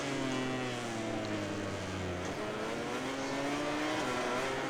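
Race cars in a racing video game at Circuit of the Americas (COTA) drone continuously with layered engine tones. One car's pitch drops sharply as it brakes, then climbs again, steady and loud throughout.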